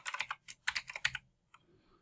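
Quiet, close keystrokes on a computer keyboard as a password is typed, a quick run of about a dozen clicks followed by one last isolated tap after a brief pause.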